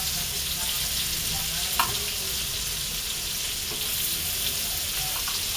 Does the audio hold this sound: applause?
no